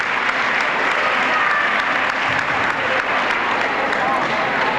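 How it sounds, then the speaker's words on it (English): Basketball fans in a gym clap in a steady, dense round of applause at a holiday tournament game, continuous and fairly loud across the whole stretch with crowd murmur mixed in. "Gets a round of applause from the fans."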